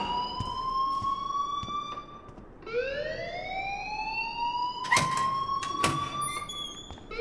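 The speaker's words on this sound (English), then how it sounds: "please turn off that alarm since that's your job" A school alarm wails in the game Life Is Strange, a rising siren-like tone that sweeps up, drops and climbs again, loud and continuous with a few sharp clicks over it.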